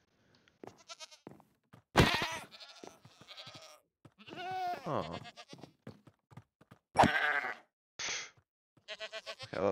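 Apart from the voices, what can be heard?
goat bleating in the video game Minecraft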